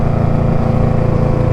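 Motorcycle fitted with a Hacker Mayhem exhaust idling close by, a loud, steady, deep rumble with a rapid even pulsing throb and no break.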